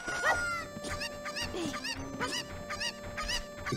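Cucco chickens in the video game The Legend of Zelda: Ocarina of Time squawk and honk in a run of short repeated calls, fairly close over a steady tone and background game music.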